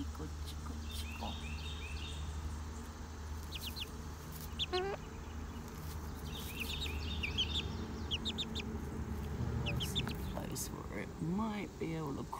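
A tiny, newly hatched chick gives scattered thin, high peeps over a constant low background hum. Other fowl-like chirps and clucks come and go at moderate distance.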